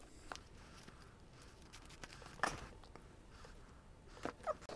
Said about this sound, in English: I'm going to go ahead and use scissors and trim that so it looks a little bit more neat.